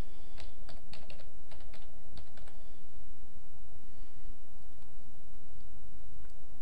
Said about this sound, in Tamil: இங்கே வந்து நீங்கள் சிக்னேச்சர் டைப் பண்ணிக்கலாம்